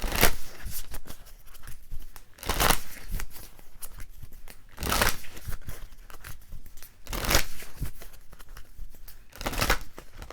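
Tarot cards being shuffled close up in repeated rhythmic bursts, each a crisp riffling flutter, separated by softer rustling handling of the deck.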